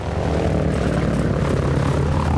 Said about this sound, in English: I think the plane is going away from me